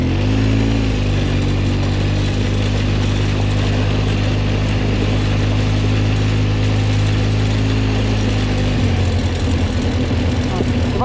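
A Polaris engine runs close and loud with a steady low mechanical drone and rattling, the pitch and load shifting near the end.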